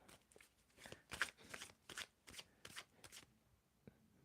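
A deck of tarot cards is shuffled by hand in a quiet room, giving a series of soft, close riffling bursts in an uneven rhythm, each lasting a fraction of a second, with no talking.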